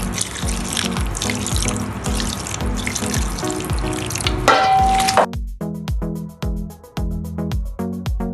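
Water poured into a mackerel fish dough mixture for pempek, a steady splashing flow heard over rhythmic background music, which thins out partway through.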